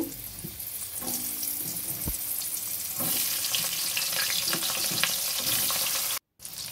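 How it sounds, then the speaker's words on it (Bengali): Pointed gourd fries in hot oil, making a dense, close sizzle with crackles and a couple of utensil knocks, intensifying after a few seconds and briefly cutting out near the end. "বড়ি ভাজা হয়ে গেছে, এবার পটলগুলো ভেজে নেব।"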